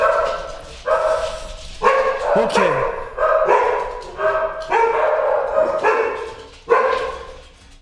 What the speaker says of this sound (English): dogs are about to go crazy.